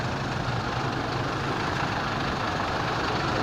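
A Volkswagen 17-230 truck with a four-cylinder diesel engine idles quietly and steadily, a continuous low rumble heard close by with no voices.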